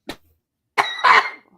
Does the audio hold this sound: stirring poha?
no